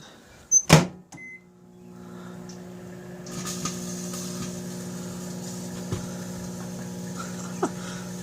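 A microwave oven starts with a loud click and beep, then hums steadily with a toy car inside, its low electrical drone growing fuller after a few seconds, with occasional faint crackles and ticks.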